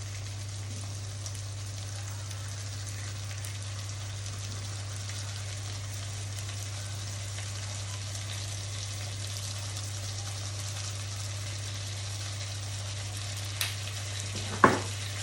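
Marinated squid with crushed black pepper fries in a pan while being stirred: a steady, close hiss of sizzling oil with a low hum beneath and a couple of sharp knocks near the end.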